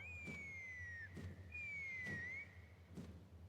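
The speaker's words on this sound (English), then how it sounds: "That sounded like a whistle." A whistle sounds in Genshin Impact, three clear sliding whistle calls that fall slightly in pitch, with faint thuds between them over a low ambient hum.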